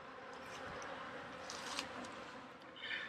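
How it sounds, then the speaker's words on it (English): Honeybees flying around a hive during feeding on a mild day above 50 degrees, a steady faint buzzing drone with a few louder passes near the microphone. "the bees are flying and I'm feeding them"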